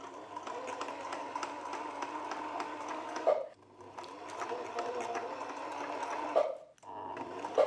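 A sewing machine stitches fabric laid over cardboard in a close, steady whirring run, stops briefly near the middle, starts again, and pauses once more near the end.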